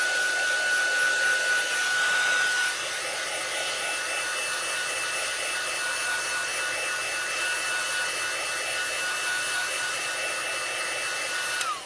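Heat gun running steadily at close range while heat-setting embossing powder on a card panel, a loud continuous blowing whoosh for about twelve seconds that dips slightly after the first couple of seconds, with no talk.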